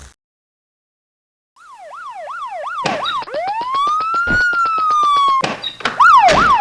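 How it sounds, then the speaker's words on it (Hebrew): A loud ambulance siren sweeping up and down in repeated cycles, then holding a long rising tone before resuming the wail, close and alone. "מוטי, תזמין לי אמבולנס."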